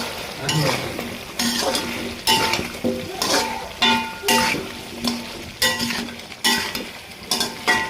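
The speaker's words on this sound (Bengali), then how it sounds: "এর ভেতর আমি পেঁপেগুলো দিয়ে দেবো কষানোর জন্য" Free-range country chicken and papaya pieces sizzle in a pan, stirred with repeated scraping strokes and metallic clinks of a spatula in a steady rhythm, close and loud with no talking.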